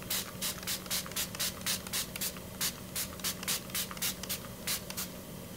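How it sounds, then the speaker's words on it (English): A series of short, crisp bursts of makeup setting spray misted onto a face, about twenty quick pumps in a steady rhythm, close and fairly loud over a faint background hum. "I'm just going to spray my face"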